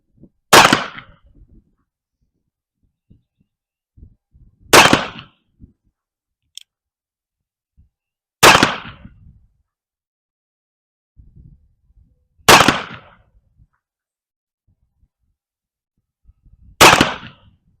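A revolver fires five sharp, loud shots at a 25-yard target, each roughly four seconds apart, with a short ringing decay after each crack and quiet in between.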